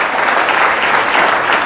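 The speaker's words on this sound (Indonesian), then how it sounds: "Yang siap tepuk tangan dulu yang meriah bagi Tuhan." A congregation at a church revival service in Malang, East Java, breaks into loud, dense applause, many hands clapping close and steady throughout with no speech on top.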